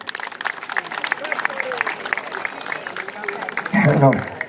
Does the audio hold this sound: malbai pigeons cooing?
no